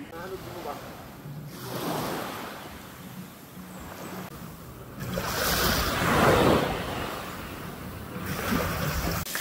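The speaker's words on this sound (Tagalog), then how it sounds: "Dagat ni." Sea waves surge and wash ashore in repeated swells, with wind buffeting the microphone, moderately loud, while people talk nearby.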